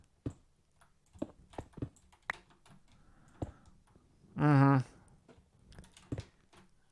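Typing on a computer keyboard: a scattered run of sharp key clicks at an uneven pace, close and fairly loud, with a brief murmur of voice partway through.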